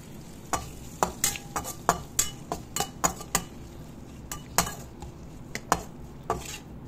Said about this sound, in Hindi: अच्छे से मसाला मिक्स कर दीजिए